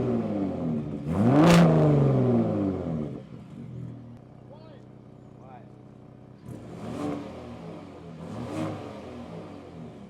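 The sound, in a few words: 2021 Ford Raptor engine and exhaust driving in normal mode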